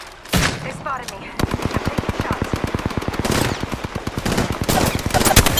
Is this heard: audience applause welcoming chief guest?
no